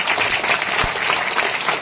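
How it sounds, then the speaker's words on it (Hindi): Church congregation clapping together for Jesus during a Hindi sermon, a steady dense wash of hand claps filling the whole moment at close range. "ताली बजाएंगे यीशु के लिए।"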